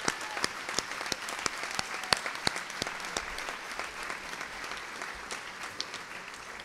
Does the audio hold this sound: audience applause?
yes